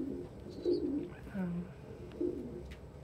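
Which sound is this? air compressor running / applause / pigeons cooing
pigeons cooing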